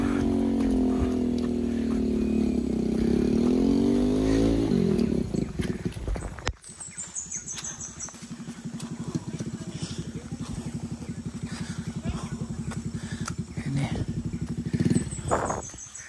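A motorcycle engine labors on a very slippery, muddy uphill road with wooden planks, revving loudly at first, then idling and chugging unevenly close by, with people talking over it.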